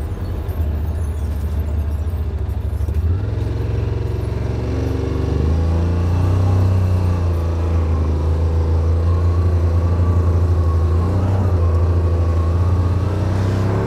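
A Yamaha Wolverine RMAX4 1000 LE UTV climbs a hill in high gear with diff lock, its engine droning loud and close with a steady low hum that rises slightly in pitch partway through, no talk.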